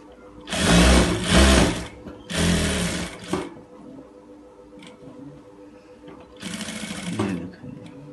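A sewing machine runs in short bursts while stitching the cuff of a men's shirt, three loud whirring runs of about a second or so each, broken by quiet pauses and a few faint clicks.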